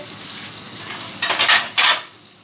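An onion fries in hot ghee for moong masoor dal, a steady close sizzle that surges into two louder hissing bursts as it is stirred in the pan.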